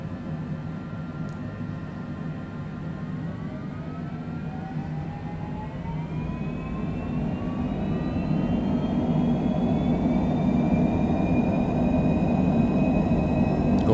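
Airliner jet engines whine and spool up as the aircraft taxis at Anchorage airport on a cold afternoon, a rising turbine tone over a steady rumble that grows gradually louder, heard from inside the plane.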